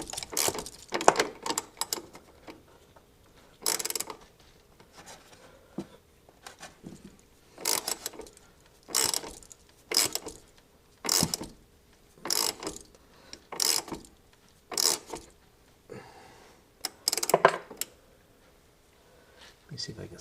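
A small wrench ratchets on a stuck nut on a C5 Corvette front shock, sounding as repeated short bursts of clicking spread through the clip, with someone talking between them.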